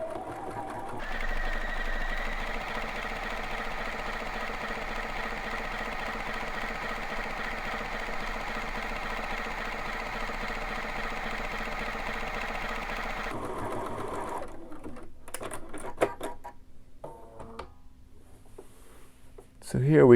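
A sewing machine fitted with an overlock foot runs a steady, even stitching whir for about twelve seconds, then stops, followed by quieter handling clicks and rustles.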